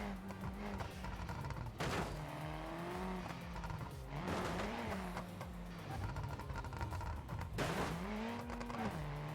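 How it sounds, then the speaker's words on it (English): A car engine in the BeamNG.Drive driving game revs and falls away again and again, with sharp bursts of crackle as it pops on the overrun, close and loud with no talking. "Car does make good poppy noises on the overrun"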